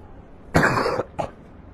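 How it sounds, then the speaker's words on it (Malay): A man coughs inside a mosque during a religious talk: one strong, close cough, then a shorter second cough, over a quiet room. "malam ni saya batuk sikit"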